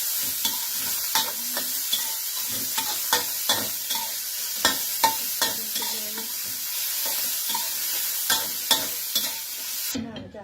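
Continuous sizzling of garlic frying in a hot wok, broken by sharp scraping taps of a spatula stirring, close and steady.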